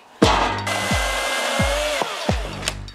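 A Milwaukee M18 FUEL battery chainsaw whirs steadily, with repeated low thuds and knocks as logs are cut and handled close by.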